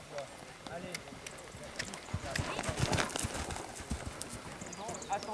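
Horses' hooves clop on the ground during a show jumping lesson, a steady rhythmic beat of moderate loudness under an instructor's talk.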